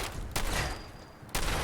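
Gunfire from the player's gun in Fallout 4, heard as two loud bursts of shots, one near the start and another near the end, with a quieter stretch of game ambience between them.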